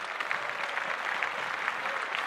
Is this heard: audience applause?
yes